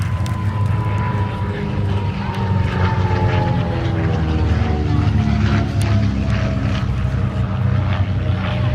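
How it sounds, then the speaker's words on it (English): A de Havilland DH88 Comet from the Shuttleworth collection, a propeller aircraft, flies past at an airshow with a steady, loud engine drone. The engine pitch slowly falls as it passes, and the roar stays continuous throughout. "A unique, airworthy survivor running in from the right from the Shuttleworth collection, the de Havilland DH88 Comet"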